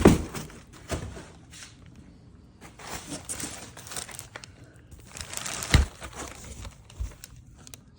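Packing padding pulled from a box holding an aluminum radiator for a second-generation Ram 2500, with close crinkling and rustling, soft thumps and a few sharper knocks at irregular intervals.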